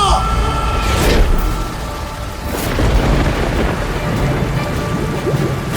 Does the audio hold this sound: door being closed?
no